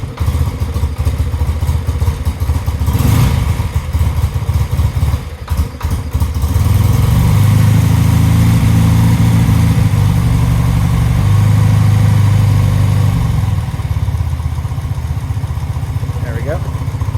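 A 1976 BMW R90/6 Airhead motorcycle engine fires up with clattering cranking, then settles into a loud, steady, throbbing idle close by, with choke set at half.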